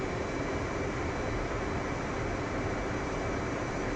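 A jet aircraft engine roars steadily at high power as the plane pushes onto a carrier catapult, a dense, continuous broadband rush that holds constant throughout without pauses.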